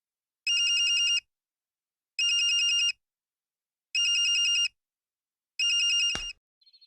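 Telephone ringing in four evenly spaced electronic rings, each about a second long, clear and close with silence between, the last cut off as the call is picked up.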